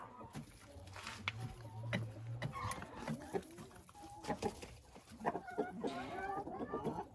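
Chickens and a turkey move about a farmyard, giving soft scattered clucks and brief calls close by, with a low steady sound running underneath for a moment.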